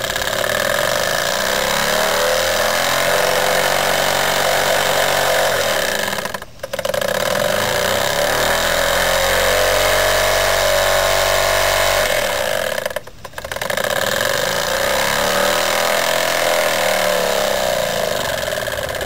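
A Jensen 25 model steam engine running slowly, a loud continuous mechanical chugging and hiss with two brief dips where the sound drops out.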